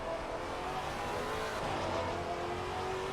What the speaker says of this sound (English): you always know when that Maserati's on track of Kerstetter. That car just sounds so nice.